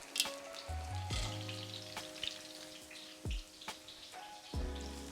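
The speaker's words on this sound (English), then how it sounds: "Then while your pakora are frying," Onion pakora bhajis sizzle steadily in hot oil, a dense crackling fry with occasional sharper pops and bubbling bursts, close and fairly quiet, with no voices.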